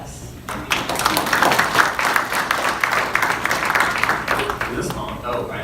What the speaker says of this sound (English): let's give a round of applause to Daniel